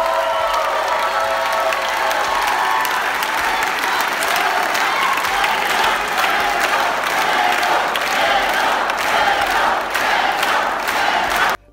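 Enthusiastic crowd at a Beto O'Rourke political rally applauding and cheering, a dense continuous wash of clapping with shouts and whoops layered on top, sustained loud for the whole stretch before cutting off abruptly.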